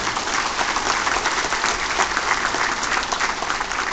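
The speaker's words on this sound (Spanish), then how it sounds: "un aplauso para ellos que vinieron de París." Convention crowd applauding visiting representatives from Paris, a thick, continuous wash of clapping from many hands, loud and even throughout.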